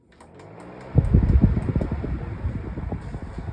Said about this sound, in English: let's go and turn it on. It's gonna start off on speed 5